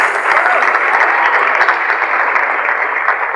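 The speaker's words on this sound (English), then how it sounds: "Please give yourselves a round of applause." Graduates at a graduation ceremony applaud themselves, producing a steady, loud crowd of clapping hands that continues evenly throughout without speech.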